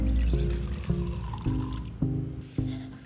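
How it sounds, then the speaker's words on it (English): Acetone being poured into an electric metal cup, a liquid splash and trickle with a series of regular soft knocks at roughly half-second intervals, close and fairly loud with no talking. "I poured the acetone into the cup"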